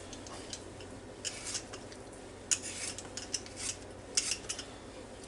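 A knife cuts bad spots out of potatoes for an old-fashioned mustard potato salad, giving a series of light, irregular clicks and scrapes against a quiet background with no talking.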